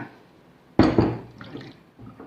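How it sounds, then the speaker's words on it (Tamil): Water poured into a pressure cooker over washed lentils for sambar, a sudden splashing gush that tapers into softer trickling, then a brief second pour near the end. "இப்போ நம்ம இதில் தண்ணி ஊற்றிக்கலாம்."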